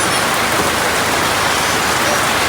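Heavy rain pours down in a loud, dense, unbroken hiss, close and steady, with no talking.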